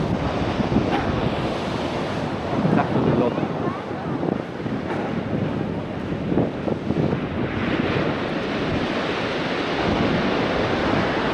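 Ocean waves surge and wash up on a black basalt sand beach in Iceland, with a continuous roar of surf and heavy wind buffeting the microphone while a person speaks briefly.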